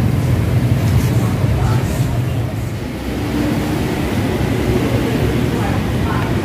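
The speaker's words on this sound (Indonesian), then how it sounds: "jadi ini mesin espresso mini" A mini espresso machine brewing espresso gives off a loud, continuous droning hum with no breaks, and a voice is heard faintly at times.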